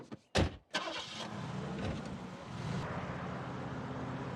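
A cartoon compact car starts with a few sharp, loud bursts, then settles into a steady engine drone as it drives off.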